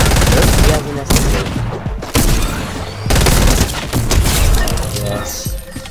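Loud rapid SMG bursts in the video game Fortnite, several close volleys separated by short gaps, with splintering impacts among the shots.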